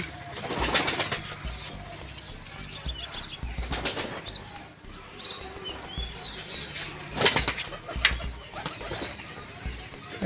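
Pigeons flap their wings in bursts while landing into their loft during landing training, with a few soft coos and outdoor ambience between the louder flurries of wingbeats.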